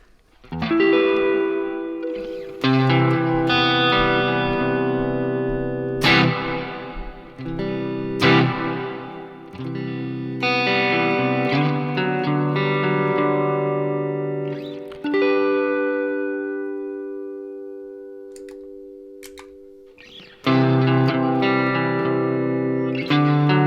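Electric guitar through a Zoom MS-50G or MS-70CDR+ modulation pedal with reverb, loud sustained chords and single notes ringing out in lush, wavering trails that fade between strums, played alone without talk.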